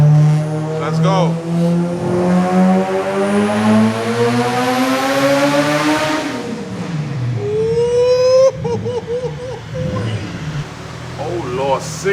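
A turbocharged B18 engine in a Honda Civic, running stock sleeves at 25 psi of boost, screams loudly through a dyno pull, rising steadily in pitch, then drops off and burbles as it comes down, with turbo whistle and flutter.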